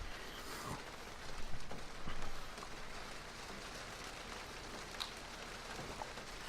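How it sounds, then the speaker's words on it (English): Heavy rain hammers down in a dense, continuous hiss of drops striking surfaces, with a few louder surges of splashing and scattered sharp drips, steady and close with no voices. "The rain was still hammering fiercely down."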